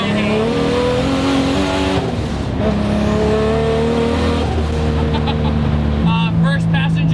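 Loud, continuous engine roar from a 500-horsepower 2JZ-powered drift car, revving and climbing through gears with shifts, heard from inside the cabin alongside some speech.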